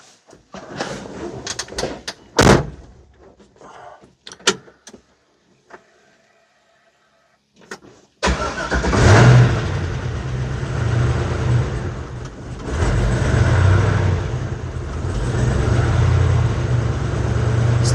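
Scattered knocks and clunks give way to a 1940 Ford pickup engine catching and running rough at cold idle, held up with throttle blips that surge and dip, loud and close.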